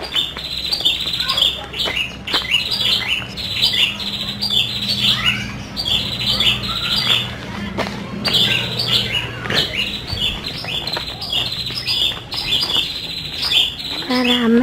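A busy chorus of birds chirps and squawks in the grounds around a house, rapid overlapping calls that sound near and lively, with a quiet low rumble underneath and a brief whistle at the end.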